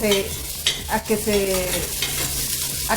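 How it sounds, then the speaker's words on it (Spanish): Onion and garlic frying in a pan: a short, close sizzle broken by a few clattering stir strokes, with no talking. "vaciamos la cebolla y el ajo, diente de ajo. Lo freímos a que se acitrone"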